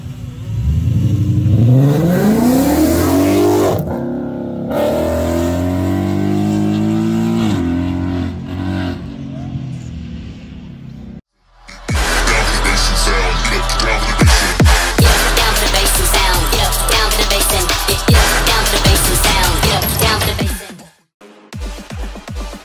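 Ford Mustang V8 engine revved hard toward its maximum, loud rising roars that sweep up and fall back, then a long sustained aggressive bellow with crackling bursts, cutting off abruptly near the end.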